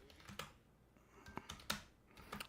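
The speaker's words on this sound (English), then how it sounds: "I'm typing away to my friends over at Google Support while I'm doing this" Someone types on a computer keyboard, scattered quiet key clicks in irregular bursts, close but faint, with no speech.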